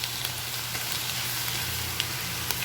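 Spam sizzling as it is stirred into garlic fried rice in a hot pan, a steady broadband frying hiss with faint scraping clicks, close and continuous without speech.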